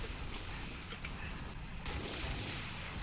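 Rocket launcher fire in the Halo Reach video game, heard as dense, booming blasts and rumbling explosions that sustain throughout, with brief dips, over a noisy background.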